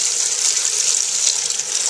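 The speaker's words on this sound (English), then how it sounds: "I'm just going to rinse it." Tap water pours steadily over cooked macaroni in a kitchen sink, a close, continuous hiss and splash with no break and no voices.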